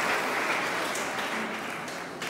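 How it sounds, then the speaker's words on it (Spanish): Brief round of applause from a church audience during a Bible handout, a moderate wash of clapping that slowly tapers off, with no talking over it. "Un aplauso para ella, venga."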